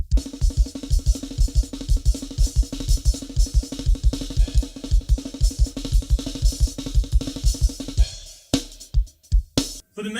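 Fast drum-solo pattern on a kit mixes rapid snare strokes with bass drum kicks in a dense, driving rhythm, then breaks into a few sparse, loud hits and cymbal crashes near the end, close and free of talk.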